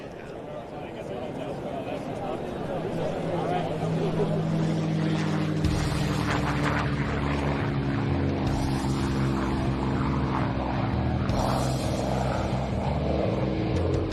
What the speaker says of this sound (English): That's the sound of the Rolls-Royce V12 Merlin engine,